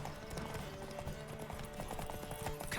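Horse hooves pounding in a race in The Witcher 3, a quick, steady clip-clop drumming close by under music and game sound, with no talk.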